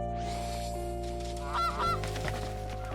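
A goose gives loud, close honks over a steady background hum, two or three nasal calls bunched together in the middle.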